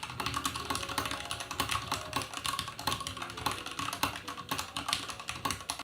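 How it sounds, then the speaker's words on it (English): Continuous typing on an An Pro 2 wireless mechanical keyboard, a rapid, close clatter of keystrokes in an irregular rhythm with no talking. "this is the An Pro 2 wireless mechanical keyboard. I personally think it feels and sounds incredible to use."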